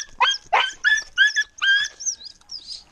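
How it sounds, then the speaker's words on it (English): A husky barks and yips in a quick series of about six close, loud, high-pitched calls, the last ones trailing into softer whines. "What kind of dog is that? A husky."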